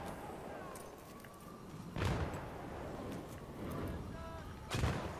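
Two booming explosions in Battlefield 3, one in the middle and one near the end, over a constant rumbling game soundscape with faint background voices.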